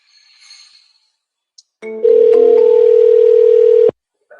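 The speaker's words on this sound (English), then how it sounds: "At the tone, please record your message." A phone voicemail greeting ends with a short beep, then a loud, steady electronic tone holds for about two seconds before cutting off cleanly, with no talking.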